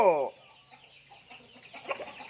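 A chicken gives a short loud squawk, then quieter clucks and scattered farmyard noises follow nearby.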